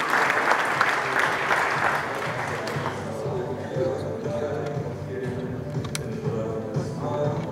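An audience at a bread-industry talk gives a round of applause for a speaker, dense clapping loud at the start that thins and fades after a few seconds, leaving murmurs and low background sound.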